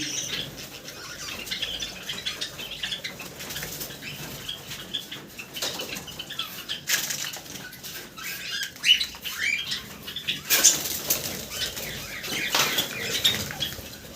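A pet bird beats its wings in a quick flurry as someone tries to catch it indoors. Rustling and flapping come in irregular close bursts with some scuffling, and no one speaks.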